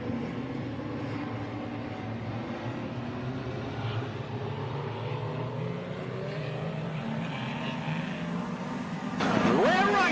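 Speedway race machines at Hobart Speedway in Tasmania roar off at the start of a race, a loud sustained engine drone heard from a distance, with a sharp rising whine near the end.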